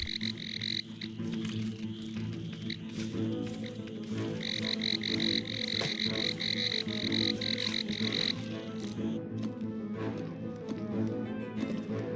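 Frogs croak in the ant strategy game Empires of the Undergrowth, giving steady loud repeated croaks over a dense, continuous game soundscape of rumbling and clicking effects.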